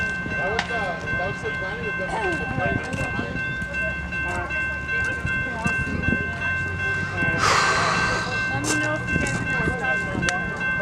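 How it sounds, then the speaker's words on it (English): Set of diesel locomotives rolling through Greeley, Colorado, a continuous rumble with rail clatter and a horn-like tone, heard under frequent talking nearby. "a set of diesels would pass through"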